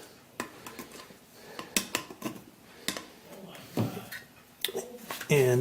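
Metal tapping, clinks and scrapes while a can of pre-stain wood conditioner is pried open, a series of sharp irregular knocks and a final scraping pop, close and under occasional talk.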